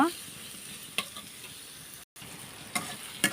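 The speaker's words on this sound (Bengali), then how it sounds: "তার জন্য আমি পেঁয়াজটা এখন ভালোভাবে ভেজে নেব" Chopped onions fry in a pan with a steady sizzling hiss while a utensil stirs them, giving a few sharp scrapes and clicks at intervals.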